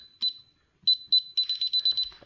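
Alarm system keypad beeping as a code is entered, a few spaced single beeps followed by a rapid run of about eight bright, close, evenly spaced tones, with faint rustling at the end.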